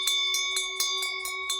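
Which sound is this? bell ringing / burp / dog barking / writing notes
bell ringing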